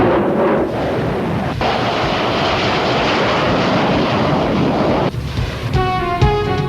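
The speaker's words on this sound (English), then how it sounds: "Finally, the F7 aircraft is going for a rocket attack." Military jet aircraft, an F7, making a rocket attack on a ground target during an air force armament exercise: a loud, sustained roar of engine and blast noise that holds steady, then breaks into a harsher burst near the end.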